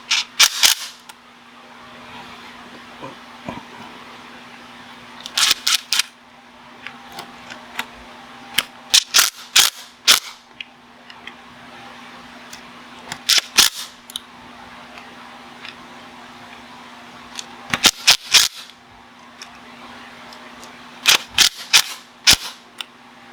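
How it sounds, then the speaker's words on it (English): Bolts are tightened during a PCV oil separator replacement on a 2.0T Audi Allroad B8. A ratchet gives sharp, rapid clicking bursts that repeat every few seconds between quiet pauses, close and loud. "tighten these up, make sure they're tight"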